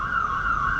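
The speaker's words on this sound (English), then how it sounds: "There's like an ambulance coming." An ambulance siren wails steadily and loudly on a road, its tone holding at a constant pitch across the whole short stretch, with faint traffic rumble underneath.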